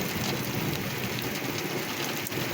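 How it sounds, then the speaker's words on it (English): Heavy rain pouring during a severe thunderstorm, a loud dense continuous roar of drops close by with no talk. "I'm getting sprayed in the face by water. Rain, I mean."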